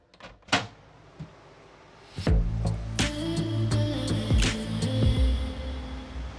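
A door clicks and swings open into the engine room of a Majesty 100 yacht, then a loud steady mechanical hum and whir of machinery fills the space, with occasional clunks.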